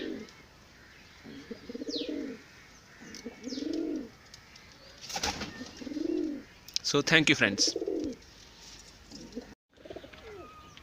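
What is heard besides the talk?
pigeons cooing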